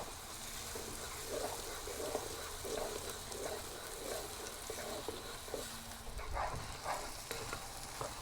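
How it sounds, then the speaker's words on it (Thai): Tofu sizzles steadily in hot oil in a pan, a dense crackling hiss with occasional scraping stirs from a spatula, close up. "ทอดจนเต้าหู้ออกสีเหลืองนะครับ"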